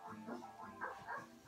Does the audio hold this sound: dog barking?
yes